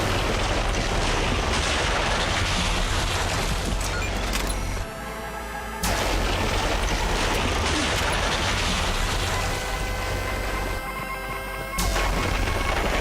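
Gunfire in the video game Mass Effect 3 comes as loud, dense, continuous blasts and crashes, with two brief drops in intensity between the bursts.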